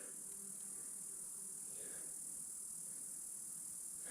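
Crickets chirp along the Ape Canyon Trail at Mt St Helens National Monument, a faint, steady high-pitched trill running unbroken under quiet outdoor ambience with no speech.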